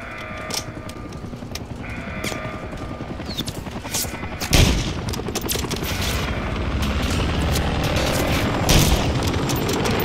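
Dense gunfire from the Modern Warfare III video game, rapid automatic bursts with loud close shots and booming impacts running continuously over a steady battlefield din.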